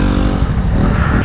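A motorcycle engine roars loudly and steadily on a mountain road in Mountain Province near Sagada, a brief, close, rumbling burst with wind noise.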